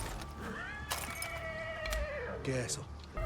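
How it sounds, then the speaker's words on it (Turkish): A horse whinnies in rising, wavering cries over steady background noise in Far Cry 6, with a few sharp clattering hits between the calls. "Benim atım niye anırıyor ya?"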